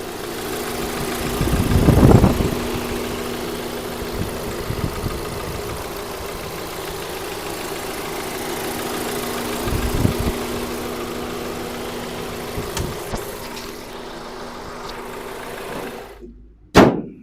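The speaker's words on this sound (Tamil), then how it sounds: "இப்போ வண்டியோட இன்ஜின் நாய்ஸ் நான் உங்களுக்கு மைக்கை பக்கத்தில் வச்சு எப்படி இருக்குன்றதை காட்டுறேன்." A 2011 Volkswagen Vento automatic petrol engine idles steadily with a low, even hum, recorded close up, with a couple of brief louder knocks and a thump at the end.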